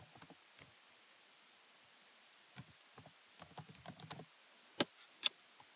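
Sparse, quiet keystrokes on a computer keyboard as a file name is typed, coming in small irregular bursts of clicks separated by pauses, with no talking.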